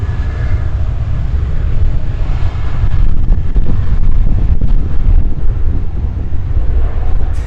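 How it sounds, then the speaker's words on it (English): Jetstar flight 409, an airliner departing the Gold Coast for Sydney, gives a loud, steady engine roar with heavy wind buffeting on the microphone throughout. "And this is going to be Jetstar 409 from Gold Coast to Sydney, Victor Foxtrot Oscar."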